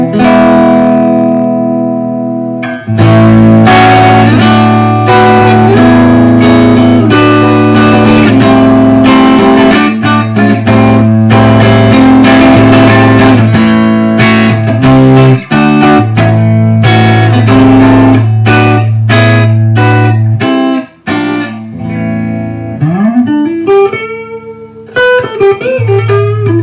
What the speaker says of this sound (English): just crank the amp, use your volume controls on your guitar, and you can get some really good tones